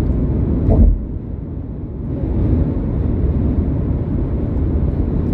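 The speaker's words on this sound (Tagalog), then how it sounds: "parang niyuyugyug ang sasakyan ko, lakas ng hangin" Strong wind buffets a car crossing a bridge in a Canadian winter snowstorm. A heavy, continuous low roar swells into a sharp gust near the start, then holds as a dense, rumbling rush. No talking.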